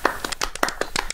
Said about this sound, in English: Do you want a slow clap? No, like this.